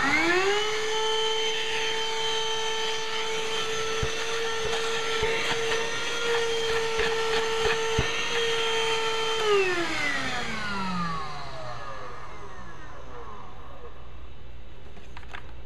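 A Black & Decker 20V MAX Lithium Pivot cordless hand vacuum (BDH2000PL) whirs steadily with a high motor whine, then winds down as it switches off near the end, leaving quiet.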